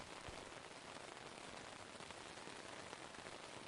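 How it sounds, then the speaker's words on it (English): Steady rain falls on surfaces in a soft, even, unbroken hiss, fairly quiet and constant with no talking or other sounds. "The rain continues, unchanged, reliable."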